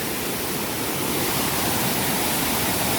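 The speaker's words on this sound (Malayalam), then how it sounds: "ഇതുണ്ട്, ഒഴുക്കുണ്ട് വെള്ളത്തിൻ്റെ." Forest stream water rushing over big rocks near a hidden waterfall, a loud, steady, unbroken roar that fills the whole clip with no voices.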